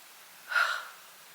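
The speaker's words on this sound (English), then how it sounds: "That is a dog sniffing the camera." A dog sniffs right against the camera in one brief, close, breathy snuffle.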